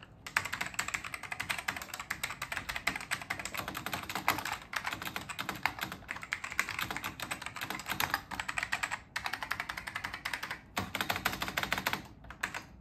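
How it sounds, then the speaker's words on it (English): Steady, rapid typing on a mechanical keyboard with black ALPS switches gives a dense stream of crisp clacks, close and fairly quiet. A few short pauses break it. "it actually has ALPS, black ALPS switches, so you can hear, we'll do a quick typing test, and you can hear what that sounds like"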